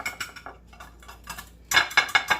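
Chopped garlic stirred into a pan for Salisbury steak, with a spoon clattering against the pan in quick scraping strokes, soft at first and then louder in a rapid burst of four or five close metallic knocks, with no voices.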